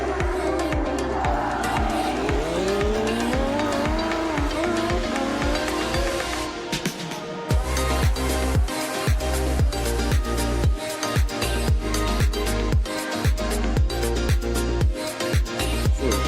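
Race cars launching off the line at a green light, loud engine roar rising in pitch, then a series of sharp revving pulses and shifts, mixed with crowd noise at a racing event.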